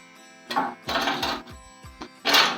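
A home sewing machine runs in short bursts, stitching a few times with brief pauses between, its motor whirring and the needle clattering rhythmically up close.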